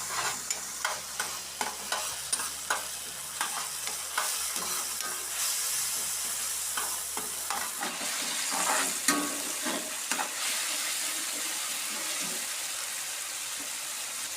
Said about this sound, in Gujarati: મીઠો લીમડો આપણે અત્યારે છેલ્લે એટલે નાખ્યો છે તેલમાં નાખીએ